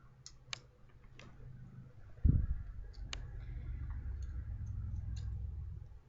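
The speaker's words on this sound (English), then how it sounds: "Actually, I'm going to cut semicircular" Scissors cutting t-shirt fabric in a semicircle: quiet, scattered snipping clicks with one soft thump partway through, close up against a low room hum.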